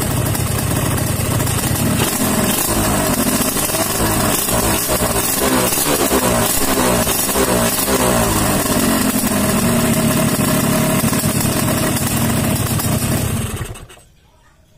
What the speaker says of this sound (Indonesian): sekarang kita lihat dan kita dengar suara mesinnya ya